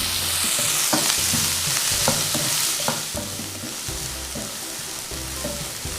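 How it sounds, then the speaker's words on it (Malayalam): Sliced onions with a little salt sizzle and fry in a pan while a spoon stirs and scrapes steadily, close and continuous with no talking. "ഇനി നന്നായിട്ടൊന്ന് സോട്ട് ചെയ്തെടുക്കാം."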